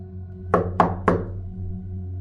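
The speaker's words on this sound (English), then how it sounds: "And then came a knock, slow," Three slow, heavy knocks on a door, evenly spaced and resonant, each with a short decaying thud over a low steady hum.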